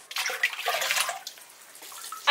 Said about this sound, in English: we fill up this bucket, so we have water during the day for showers and stuff